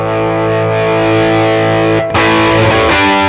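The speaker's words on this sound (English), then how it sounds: "If I turn the gain up, we'll kind of just, you'll hear it crank." Electric guitar through an overdrive pedal with the gain cranked up, loud and heavily saturated: one long sustained distorted chord that cuts off briefly, then a fresh, brighter and grittier chord rings out.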